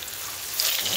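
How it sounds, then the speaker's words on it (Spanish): Plantain patties with carrot and cheese frying in a pan, a dense steady hiss of hot oil, close and moderately loud, with a brief swell near the end. "Vamos a ir friéndolas de a una por una."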